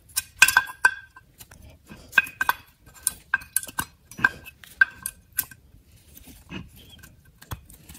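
Brake pads are fitted by hand into the caliper bracket of a 2008 Toyota Prius, producing a close series of sharp metallic clicks, clinks and taps in irregular bursts with quiet gaps between.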